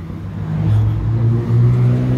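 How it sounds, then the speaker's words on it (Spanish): A motorcycle ridden by on a street in Queens, New York, revving loud and close with a rising, droning engine tone, heard alone without talk. "Aquí una moto, un loco con una moto,"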